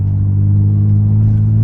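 A Nissan GTR engine drones with a deep, steady low rumble as the car pulls away, loud and close throughout with no voices.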